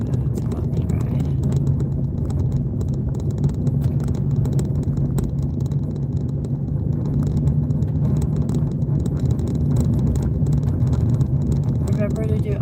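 A car drives along a bumpy lakeside road with a steady, loud rumble of engine and road noise throughout, plus wind buffeting and faint rattles from the rough surface.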